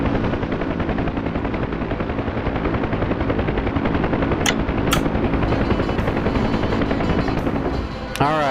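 A helicopter flies steadily and loud through a military video game set in a dynamic Afghan war, its rotor drone continuous, with a few sharp clicks near the end.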